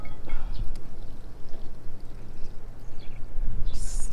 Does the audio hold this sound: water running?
yes